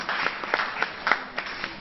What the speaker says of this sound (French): Merci, on applaudit pour elle.